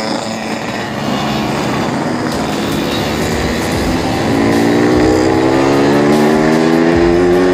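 Group ride of two-stroke motorcycles and Vespas on the road to Jatigede, Sumedang, with many engines droning together and revving up as the pack gathers speed, a loud, dense and continuous roar with no clear talk.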